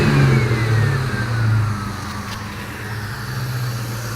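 A car fitted with a DNA catback exhaust and new transmission mount revs up, the engine note climbing and holding, then easing back to a steady mid-pitched drone, close and loud.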